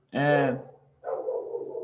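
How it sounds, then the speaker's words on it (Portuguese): A dog gives one loud nearby bark, followed by a softer muffled sound under a low steady hum. "Meu cachorro tá latindo"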